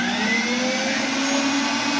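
An electric meat grinder runs while making sausage, a steady loud whirring motor hum with a high whine and no change over the short span, no voices.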